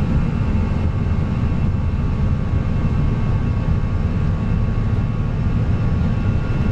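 Airbus A320 engines at takeoff thrust make a loud, steady, broadband roar that fills the whole stretch without a break, heard from inside the cockpit.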